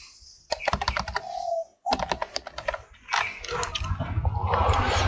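Rapid clicking keystrokes on a computer keyboard while an email ID and date of birth are entered into an online login form, coming in quick bursts with a short pause partway through, close and clear.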